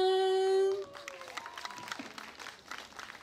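After a sustained musical tone cuts off, a live performance audience breaks into scattered, moderate applause and cheering that lingers unevenly to the end, with some voices mixed in.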